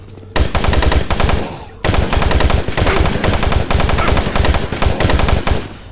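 Rapid automatic gunfire from a weapon in the video game Doom 3, loud and continuous in sustained bursts with one short break, no talking over it.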